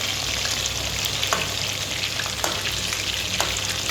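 Onions sizzling in a pan for an onion and tamarind curry, a dense, constant frying hiss up close with occasional clicks as they are turned, and no talking.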